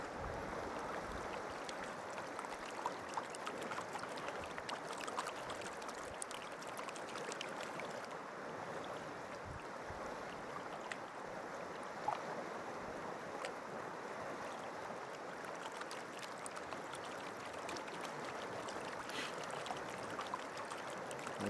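Water and gravel slosh and swirl in a gold pan that is shaken continuously by hand outdoors, making a steady, soft wash of water sound with no talking.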